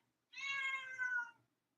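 A single cat's meow, a drawn-out call with a brief rise near its end, fairly close and clear against a quiet background with no talking.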